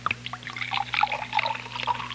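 Kalak water poured into a glass after supper, a soft trickling and splashing of liquid running for about two seconds over a steady low hum, fairly close and moderately quiet.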